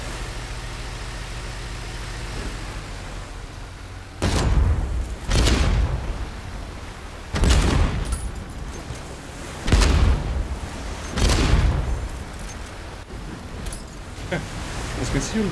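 Boat-mounted guns in the naval video game Age of Water fire in a series of heavy booming blasts, five or six loud bursts at uneven intervals over a low engine rumble.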